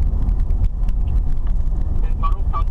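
Car driving along Kanjala Drive in Chipata, Zambia, with a steady low road rumble and engine drone throughout, and faint higher squeaks near the end.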